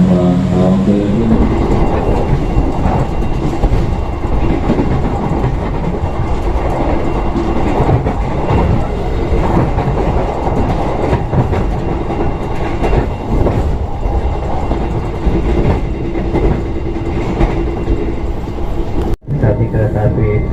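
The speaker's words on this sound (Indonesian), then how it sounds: "kereta api Tawang Jawa Premium akan tiba dan berhenti di stasiun Cirebon" A Tawang Jaya Premium passenger train rolls along the rails near Cirebon station with a loud, continuous rumble and rhythmic clatter of wheels, a brief squeal near the start, and faint voices underneath.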